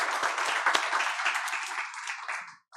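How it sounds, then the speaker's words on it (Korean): A church congregation claps together during a Sunday worship service, dense and loud applause that holds steady before tapering off and stopping near the end. "우리 하나님께 영광의 박수 올려드리겠습니다."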